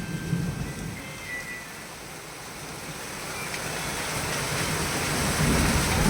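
Heavy downpour during a thunderstorm, a dense steady roar of rain with low rumbling swells of thunder building toward the end, loud and close, no voices.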